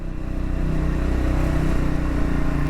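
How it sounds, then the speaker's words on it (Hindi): Triumph Scrambler 400X engine pulling in second gear up a steep mountain road, a steady mid-pitched throb with a constant firing rhythm, fairly close and unbroken, no talk over it. "और इंजन की साउंड आपको आ रही होगी।"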